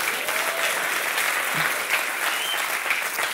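Audience applause at a French-language talk by Patrice Martorano, steady dense clapping filling the whole stretch at moderate loudness, with no voice over it.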